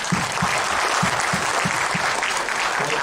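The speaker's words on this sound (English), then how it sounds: "I can request for a big round of applause" Audience at a startup event on a university campus giving a big round of applause, dense crowd clapping with a few louder rhythmic claps standing out, sustained and even for the whole stretch.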